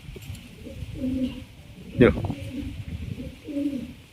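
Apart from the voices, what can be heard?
pigeons cooing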